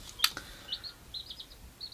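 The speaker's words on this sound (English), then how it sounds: "I'll show you that chirping in a second" A bird chirps in quick, high, thin tweets, a few short calls scattered over a soft background, faint and somewhat distant, with one sharper click near the start.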